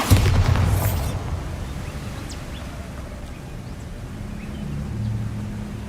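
A Bombarda spell blast in the video game Hogwarts Legacy: one deep booming explosion at the start that fades into a low rumbling tail, with a faint low swell near the end.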